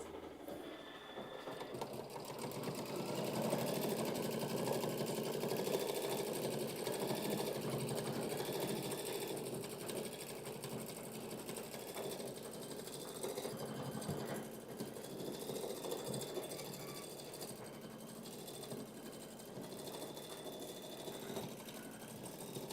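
An embroidery machine stitches fabric pieces down for a pillow, a steady fast mechanical whirring that runs continuously and fairly close, rising slightly in the middle and holding without pause.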